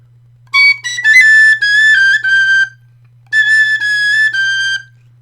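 Tin whistle playing a hornpipe slowly, two clear melodic phrases of bright, breathy tones separated by a short pause, played solo and close.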